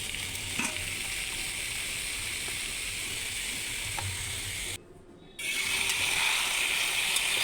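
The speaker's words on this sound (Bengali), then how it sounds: "তারপরে পেঁয়াজ, ফুলকপিটাকে ভালো করে ভেজে নিলাম।" Onion and cauliflower fry in hot oil with a steady, close sizzle, broken by a brief near-silent dropout before the crackle returns slightly louder.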